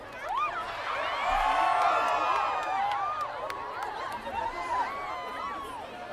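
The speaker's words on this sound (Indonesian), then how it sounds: "Oke, boleh kita tepuk tangan buat Baco" An audience at a school alumni concert in Toraja cheering and whooping, a steady, loud crowd roar with shouts and chatter that carries on throughout, voices rising over the din.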